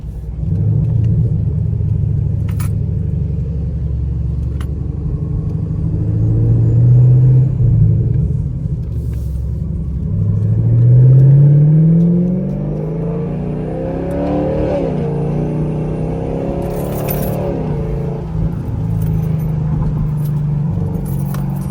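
Inside a straight-piped 2017 Camaro SS on an interstate at night, the V8 exhaust drones with a deep rumble and swells as it accelerates, rising in pitch then settling back to a steady cruise, with faint rattles throughout.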